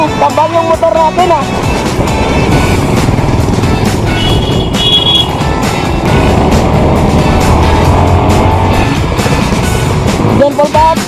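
A motorcycle rides along a road between Cadiz and Sagay City, giving a continuous loud engine drone with wind rush and scattered beeps and traffic noise, while voices talk briefly at the start and end.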